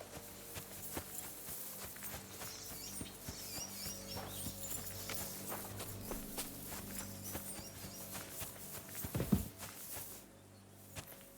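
Horses' hooves clip-clop steadily on the ground in Kingdom Come Deliverance 2, a continuous walking rhythm at moderate distance over a low ambient bed, with a sharper thump near the end before things quiet down.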